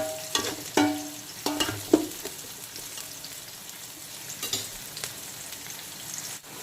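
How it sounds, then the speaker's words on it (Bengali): Chopped onion, ginger, garlic and green chilli frying in a pan for mixed fried rice until light brown, giving a soft, steady sizzle with a few stirring clinks near the start and no talking. "এখন পেঁয়াজ কুচিটাকেও হালকা করে ভেজে নেব, হালকা বাদামি কালার করে ভেজে নেব।"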